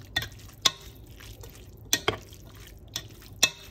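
Drained pinto and black beans are stirred into a pot of taco soup, several sharp wet clacks and scrapes spaced irregularly over a quiet background, with no talking.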